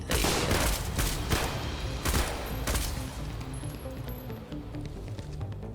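M14 rifle fire in the video game Decaying Winter during a solo run, a rapid string of loud, close gunshots with sharp cracks at the start, then continuing shots at lower intensity.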